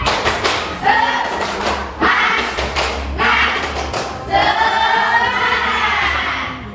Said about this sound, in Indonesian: Kita tepuk semangat dulu, boleh?